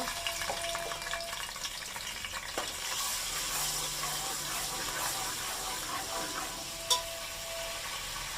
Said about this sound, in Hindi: अदरक लहसुन का पेस्ट डालना है, एक चमचा।